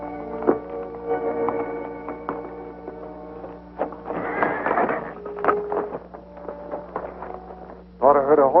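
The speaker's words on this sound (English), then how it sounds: "Thought I heard a horse whinny." A horse whinnies amid hoofbeats and a steady low hum, with a louder, shrill neigh bursting out near the end.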